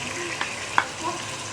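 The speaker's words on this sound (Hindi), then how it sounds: "ये डाल के अब इसको फ्राई थोड़ा भूनेंगे" Ginger garlic paste with coarsely crushed green chilies frying in oil for Bombay biryani: a steady, close sizzle with a few soft stirring clinks.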